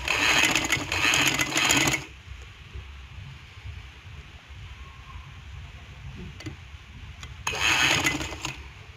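A sewing machine stitches fabric in two bursts of steady, rapid whirring, one at the start and one near the end, with quiet handling sounds in between.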